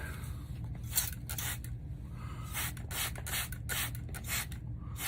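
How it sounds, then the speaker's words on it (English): A spray bottle mists water onto a face outdoors in bitter cold, with a string of short hissing bursts in quick succession, close and fairly quiet. "I'm gonna spray a fine mist on my face out here."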